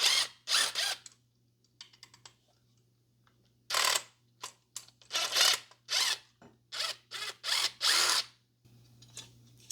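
Flathead screwdriver prying and ratcheting a garbage disposal mounting ring loose under a sink, a series of loud scraping, clicking metal bursts separated by short pauses.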